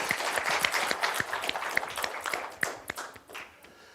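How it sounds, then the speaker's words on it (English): An audience at an economic outlook lecture claps in scattered, uneven bursts that thin out and fade toward the end. "Let's give him a round of applause,"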